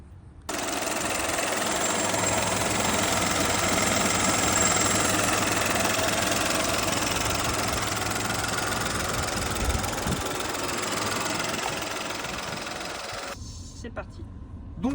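Peugeot 2008 from 2017 with a 1.2 PureTech 110 hp petrol engine and manual gearbox, idling steadily with a broad, even hum that holds for most of the span before cutting off near the end.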